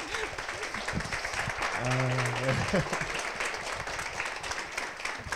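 A church congregation applauds steadily at moderate volume while a brief sung or hummed tone and a short spoken word cut through the middle of the clapping.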